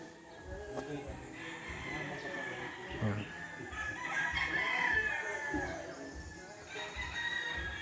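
Chickens and roosters cluck and crow at a game farm in Tanay, Rizal, several birds calling near and farther off in overlapping bursts while someone talks over them.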